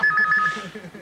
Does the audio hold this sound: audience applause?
no